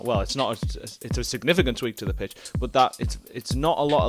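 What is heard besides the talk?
No everyday noise stands out behind the speech.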